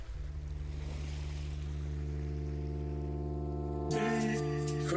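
A boat surges across the open sea at full speed, its engine drone steady beneath rushing water and wind, swelling louder near the end in a staged radio-drama effect.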